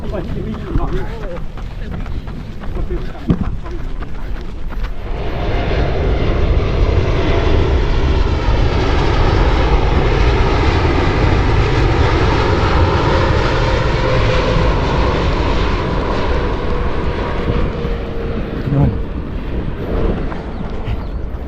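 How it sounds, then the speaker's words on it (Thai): A jet airliner passes overhead near Suvarnabhumi Airport during a road running race, its engine roar swelling after a few seconds and holding loud and steady for the rest of the stretch. "เครื่องบิน"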